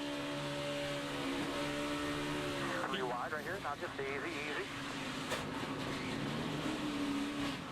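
Onboard NASCAR race car engine at Daytona moments before a spin: a steady loud drone with a note that dips and wavers briefly midway, with radio chatter from a spotter over the top.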